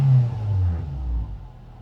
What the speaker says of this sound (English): Give you a little rev now the revs have cooled down.